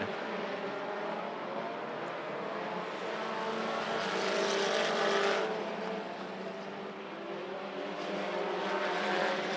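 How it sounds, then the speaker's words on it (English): Race cars circling a speedway track on a regular race night, a dense continuous engine roar from several cars swelling and easing as the pack passes, heard from a distance. "we've got a gaggle of cars back there running for the 5th position"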